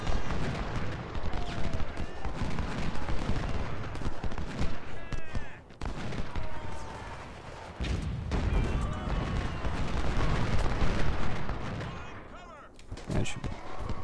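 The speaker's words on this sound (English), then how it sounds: "Wait for the artillery to shoot once." Artillery firing in the Civil War video game Ultimate General: Civil War, with repeated booming shots and crackling gunfire in a dense, sustained battle din, while a voice talks over it.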